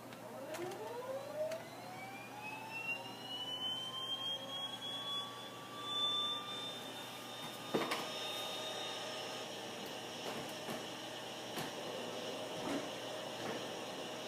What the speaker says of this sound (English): now we're going to start our right engine